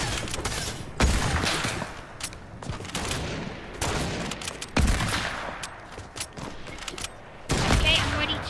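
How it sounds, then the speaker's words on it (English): Repeated bursts of video-game gunfire as Fortnite players shoot at one another, several sharp volleys spaced through the stretch with a constant busy game backdrop. "Two people are literally shooting at me."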